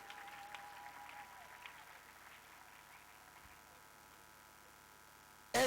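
A church congregation applauds, a faint, sustained patter of clapping fading gradually under a low hum, followed by a sudden loud burst at the very end.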